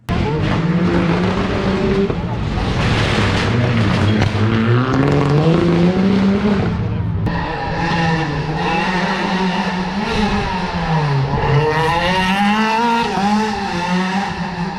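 Rally cars race past during a Rallye Cœur de France stage, engines rising and falling through gear changes with tire squeal, loud and sustained, one car following another through a corner.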